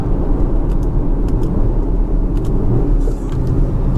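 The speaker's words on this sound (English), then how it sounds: "You heard the downshifts, right?" An Audi Q5 TFSI Quattro SUV rumbles steadily from inside the cabin as it downshifts, a loud continuous engine drone with a brief dip near the end and no talking.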